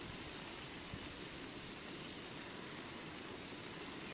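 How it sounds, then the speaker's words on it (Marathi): Light rain falling outdoors, a soft, even hiss of drops that runs steadily throughout with no voices. "पाऊस पडतोय, हलका हलका पाऊस पडायला लागलाय"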